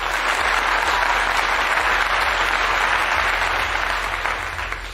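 Dense, sustained applause from a crowd, loud and even for several seconds before easing off slightly at the end.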